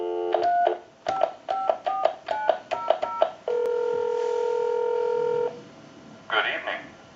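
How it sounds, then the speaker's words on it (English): A quick run of telephone keypad tones on an old Snoopy and Woodstock novelty phone, short beeps one after another, followed by a longer steady two-tone note, then a brief burst of noise. "we'll call a time and temp number"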